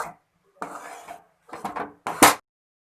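A utensil stirs puran filling with cardamom powder in a pan, making short, close scraping and clinking strokes in three separate bursts, the last one the loudest.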